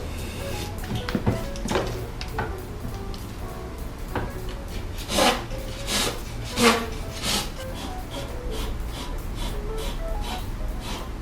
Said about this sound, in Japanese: ヤスリで表面をさらって、 まあ、滑らかにして形を少し整えると